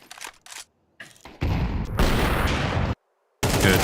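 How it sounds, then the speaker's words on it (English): Counter-Strike gunfire during a pro league match, with short clicks followed by a loud sustained burst of shots, a brief gap, then another loud burst. "So a very nice kill from NQZ."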